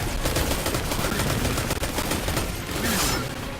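Rapid weapon gunfire from the video game Destiny crackles in dense, overlapping bursts that run almost continuously at close, loud level, with no talk.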